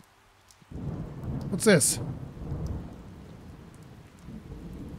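Rolling thunder and steady rain in the video game Scrapping Simulator, a loud crack building into a broad rumble over constant rainfall, with a voice speaking briefly.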